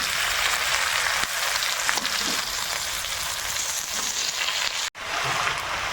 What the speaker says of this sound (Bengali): শুকনো লঙ্কা, তেজপাতা দিয়ে দিলাম, গোটা গরম মশলা দিয়ে দিলাম, দিয়ে একটু হালকা ভেজে নিতে হবে